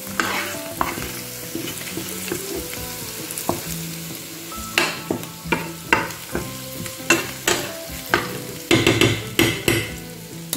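A sofrito with sweet paprika is stirred and mixed in a frying pan, with steady sizzling under repeated scraping and clinking strokes of a utensil that grow more frequent and louder toward the end; no talking.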